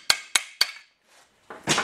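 Three sharp, evenly spaced hammer blows drive a bearing into a Willys transfer case using a socket, close and clear, followed by a short pause and a scraping metallic clatter.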